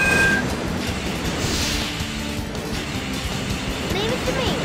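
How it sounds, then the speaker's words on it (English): Rolling train in the Sonic Heroes game's Rail Canyon stage, a steady rumbling, clattering roar that fills the whole stretch alongside game music and effects, with voices calling out over it. "What's up with that train?"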